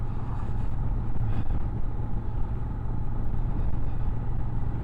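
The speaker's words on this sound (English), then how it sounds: "Engine's quiet in operation, there's not much note" A 2023 Honda XL750 Transalp motorcycle engine while riding gives a steady low rumble mixed with wind buffeting, continuous and moderately loud with no talk.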